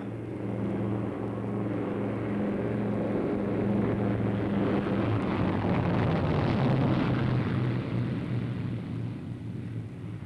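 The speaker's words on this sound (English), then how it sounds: "Able Sugar Dog's making a one-engine landing on runway 4" A single-engine-out aircraft on short final touching down on a runway, its steady droning engine with strong low harmonic hum holding loud and continuous, pitch sliding slightly as it settles, no voices.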